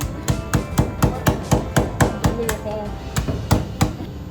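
A hammer pounds hard mint candies in rapid, even blows, about four strikes a second, close and sharp, with a brief faint voice partway through.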